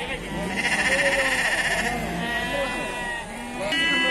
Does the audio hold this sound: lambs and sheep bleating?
yes